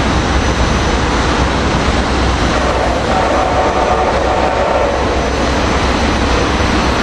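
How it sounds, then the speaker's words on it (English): An Amtrak Acela train passes northbound on an electrified line, producing a loud, steady rush and rumble of wheels and wind that fills the whole stretch without letup. "did we see an Acela coming north, coming by us?"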